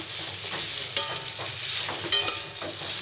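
Pasta frying in a pan with onions, a close, continuous sizzle broken by a few sharp stirring scrapes and clinks.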